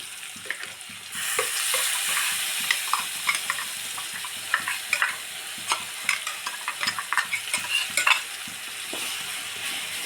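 A spoon stirs ground spice paste into an okra curry in a pan, giving a steady hiss of frying with frequent close scrapes and clacks against the metal.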